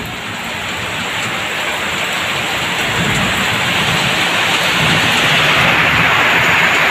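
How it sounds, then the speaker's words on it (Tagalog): Heavy rain pours steadily indoors and out, with a dense roaring wash and a low thunder rumble underneath, growing slightly louder; water leaks through the roof inside a house. "Malakas yung ulan sa labas,"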